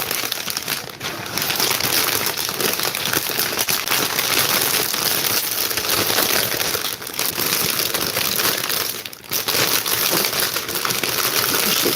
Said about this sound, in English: So let's just add cellophane into the centre.